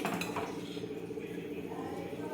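A spoon scrapes and clinks against a pan and plate while mung bean pod curry is served out, a few soft metallic taps and scrapes at close range, fairly quiet.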